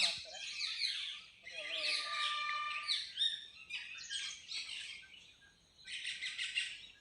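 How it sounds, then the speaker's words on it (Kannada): A peacock calls among chirping, tweeting birds beside a clean pond outside a village, bright bursts of song coming in waves, with a few harmonic honking cries mixed in. "ಅದ್ಭುತವಾದ ಇಂಪಾದ ನವಿಲು ಕೂಗ್ತಾ ಇರೋ ದೃಶ್ಯ ಕೇಳಿರ್ಬೋದು"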